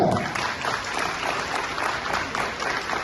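An audience at a Tamil comedy debate gives a short burst of steady applause as someone speaker comes up. Moderately loud, even clapping fills the moment, with little talk.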